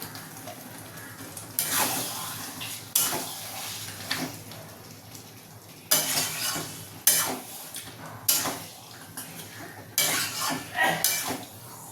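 Garlic paste stirred and fried in a pan for Bengali chicken chaap, with a soft continuous sizzle broken by repeated loud scraping and clinking strokes of a spoon against the pan, and no talk.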